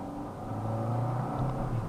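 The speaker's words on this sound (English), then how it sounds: "So exhaust noise is okay. It's quite a nice little noise." Low exhaust note from a 2021 Hyundai Sonata Sport, a steady droning hum that rises slightly in pitch as the engine pulls, heard from inside the cabin with no talking.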